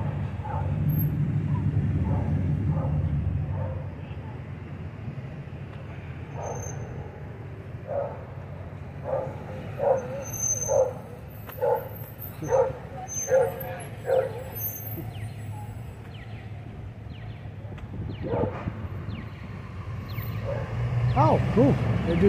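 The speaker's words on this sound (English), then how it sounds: "There's a dog in that car." A dog inside a parked car in a city parking lot barks in a series of short, muffled yips, mid-distance, over steady outdoor background noise and traffic.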